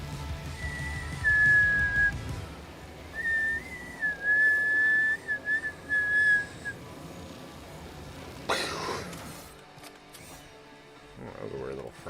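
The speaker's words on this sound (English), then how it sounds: "I can't whistle." A person tries to whistle, producing a thin, wavering high tone in a few short bursts that break off, with background noise and brief rustles between.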